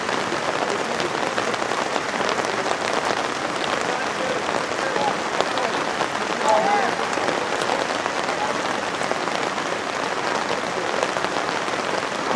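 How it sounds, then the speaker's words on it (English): Steady rain pouring outdoors on the sideline of a boys' youth soccer friendly match, a dense, even hiss that continues unchanged from start to finish. "God, this rain doesn't stop, eh?"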